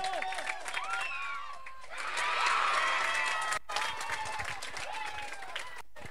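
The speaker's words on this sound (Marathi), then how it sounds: "टाळ्या मित्रांनो." Outdoor crowd at a local semi-final cricket match cheering and clapping, with whistles and shouts swelling in the middle, overlapping the voice of an announcer on a loudspeaker.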